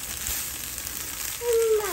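Tofu fried rice stirred in a frying pan with a low, steady sizzle of frying, and a brief tonal scrape near the end, with no talking.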